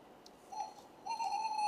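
Owls hoot softly in two short, low calls, the second longer and held, faint against a quiet background.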